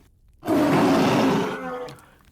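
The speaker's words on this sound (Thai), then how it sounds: "ส่งเสียงคำรามขึ้นมาด้วยความคลุ้มคลั่ง" A sudden loud, raspy roar like a big cat bursts out and sustains for about a second before trailing off into a growl.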